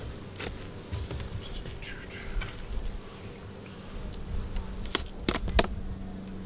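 Honeybees buzz around hive supers still full of bees during beekeeping work, a steady close hum with louder passes of bees flying near, plus a few sharp knocks and clicks from handling the equipment.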